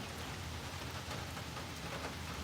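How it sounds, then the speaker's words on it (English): Rain falls outside in a stormy setting, a faint, even wash of dense drops that hisses steadily without a break. "it's raining here right now"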